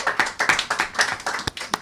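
Sparse, evenly spaced handclaps at a magazine cover unveiling event, about a dozen distinct claps in a quick rhythm, close and moderately loud with no talking.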